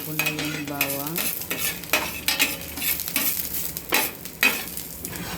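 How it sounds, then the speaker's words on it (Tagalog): Garlic sautéing in a pan for Filipino shrimp sinigang, a steady sizzle broken by repeated stirring scrapes and clinks of a utensil, with a brief low hum near the start. "Ang bawang guys, igisa ko na yung bawang."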